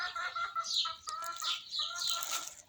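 Hens on a small Turkish family farm with sheep, clucking and chirping in short irregular bursts at close range, several birds overlapping with no talk.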